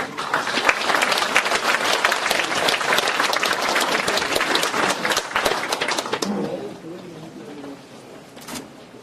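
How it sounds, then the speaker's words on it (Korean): Lecture-hall audience at a Korean humanities forum applauds a professor being welcomed to the front, a dense sustained burst of clapping that fades out after about six seconds, leaving a quiet room with a few stray sounds. "우리 김호덕 교수님을 앞으로 모실 때 큰 박수로 환영 인사를 대신해 주시기 바랍니다."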